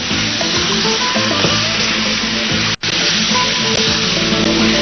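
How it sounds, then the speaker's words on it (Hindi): Chicken browning in a pan gives a loud, steady, dense sizzle with a faint clatter of stirring and a brief dropout partway through. No one speaks. "और इसकी भुनाई, और जैसे चिकन का कलर चेंज हो जाए"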